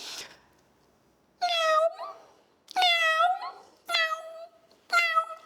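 Four drawn-out meows from a human voice imitating a cat, each rising then falling in pitch, evenly spaced and fairly close, with no other sound between them.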